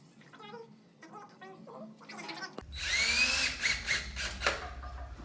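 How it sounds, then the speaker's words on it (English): Midway through the clip a power drill whirs loudly up close, driving screws to fasten the mount of a thermal temperature scanner in a sustained grinding burst after a stretch of quieter handling sounds. "And then you just put your screws in."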